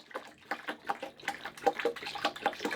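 Water trickling and splashing from a boat's bilge pump outlet on a sailboat, a faint, irregular run of small gurgles and drips close by, without talking.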